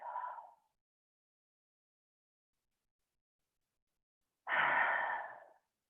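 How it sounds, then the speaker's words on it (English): Slow, deliberate yoga breathing, a soft breath tailing off at the start, then a long pause of silence before a fuller, airy nasal-and-mouth breath of about a second; close and quiet, no talking. "as you breathe, beginning with the inhale through the nose"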